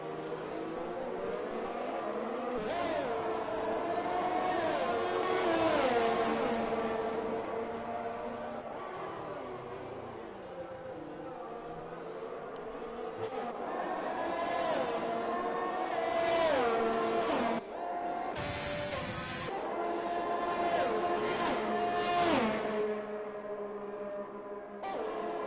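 F1 cars racing at the Belgium Grand Prix in the video game F1 2021, with continuous high-pitched engine whine that climbs and falls through gear changes as cars run close together, loud and steady throughout.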